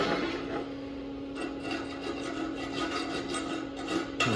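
A wire brush scrubs slag off a 6010 2G butt weld in steady, rasping strokes, close and fairly quiet, with a faint constant hum underneath and no talk.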